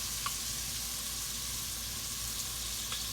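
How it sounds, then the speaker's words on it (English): Beef tips searing in a hot pan give a steady, close sizzling hiss throughout, with a few faint clicks and no talking. "You want that nice sear. You're sealing in all them nice juices in your meat"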